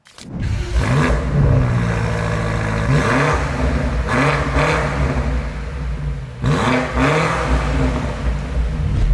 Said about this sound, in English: So now we're gonna test the exhaust note